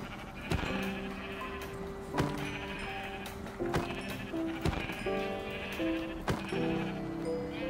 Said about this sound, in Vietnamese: Cừu.